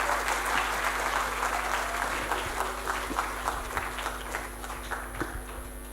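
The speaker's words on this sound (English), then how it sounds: "you can clap now if you want to" An audience breaks into applause after a lecture on technology and second language learning, a dense, steady patter of many hands clapping that gradually fades.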